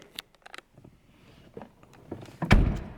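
A 2009 Hyundai Genesis BH 380 sedan door shuts with a single solid thunk near the end, preceded by a few small clicks and handling sounds, close and fairly loud.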